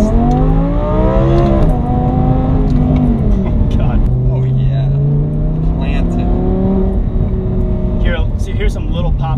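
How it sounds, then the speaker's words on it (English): Audi R8 V10 with a new tune and valved exhaust revving hard, the engine pitch climbing and falling through several loud sweeps, with small pops and crackles from the back sputtering between revs. "Hear some little pops and crackles from the back with the new tune."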